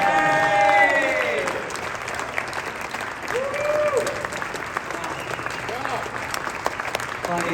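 An audience gives a sustained round of applause at a live storytelling event, with dense clapping that is loudest at the start and then thins gradually. Voices cut in and out over the clapping.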